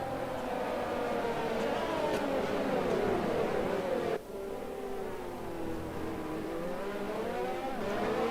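F1 race cars idle and rev on the starting grid at the Belgian GP in F1 2020, a steady, droning chorus of engines with pitch wavering up and down, briefly dipping midway.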